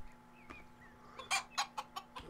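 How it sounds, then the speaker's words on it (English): Short bursts of clucking come from a chicken in the game Rising World. A few quick, close clucks follow soft chirps over a low background tone. "So now we've got a few chickens in the yard."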